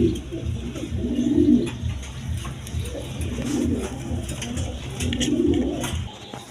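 A pair of fancy Chua Chandan pigeons coo close by in slow, repeated rolling phrases, about three swells over a few seconds, with faint chirps in the background.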